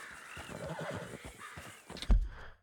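A horse whinnies in Red Dead Redemption 2, a drawn-out, wavering neigh close by, followed by a sharp thump and a brief snort at the end; no talking.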